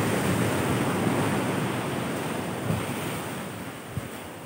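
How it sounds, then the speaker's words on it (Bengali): Big ocean waves crash at Delta Beach in Udupi, a dense continuous roar of surf with strong wind buffeting the microphone throughout. "দেখতে পাচ্ছেন বন্ধুরা সমুদ্রের গর্জন, ঢেউগুলো বড় বড়"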